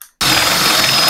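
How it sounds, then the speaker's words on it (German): A Forstner bit bores half-depth into wood on a power drill. The loud, steady whirring grind starts abruptly after a brief silence and continues without pause. "Bohren wir die halbe Stärke mit dem Forstnerbohrer"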